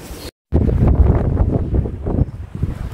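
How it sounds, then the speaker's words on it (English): Strong storm gusts of wind buffet the microphone at a wild campsite in loud, rumbling bursts after a brief moment of silence. "very windy"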